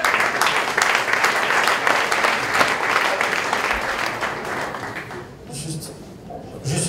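Audience at an evening business event applauding, sustained loud clapping from a crowd that fades out, with a presenter's voice over it.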